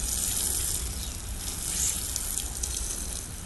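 Water pours steadily from a hose onto ground cover around a winter-blooming witch hazel shrub, a continuous soft gushing hiss close by with no talking.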